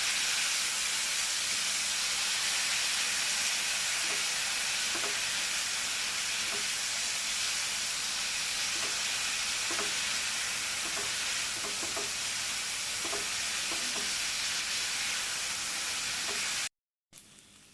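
Minced meat filling for stuffed pointed gourd frying in a pan with salt and a little soy sauce, a steady loud sizzle and hiss running throughout with occasional stirring scrapes, cutting off abruptly near the end.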